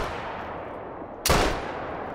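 A single sharp rifle shot cracks out after a stretch of steady background noise, followed by a brief fading tail, in the hunting video game theHunter: Call of the Wild.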